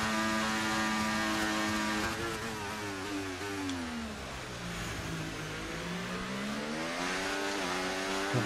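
A race car engine in a racing video game, revving loud and close with rising and falling pitch sweeps through gear changes, steady and continuous with no talking.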